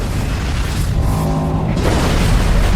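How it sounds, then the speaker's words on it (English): A deep, rumbling magazine explosion aboard the battleship Bismarck roars with a heavy boom amid continuous low-frequency noise, dense and loud throughout, buckling the hull. "a huge explosion buckles the hull"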